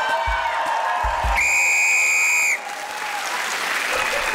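A studio audience cheers and applauds loudly throughout, and a buzzer sounds for about a second in the middle.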